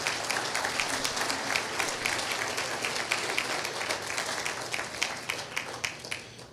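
Sustained applause from a church congregation giving praise to the Lord, a thick wash of many hands clapping that holds steady for several seconds, with a few crisper nearby claps toward the end.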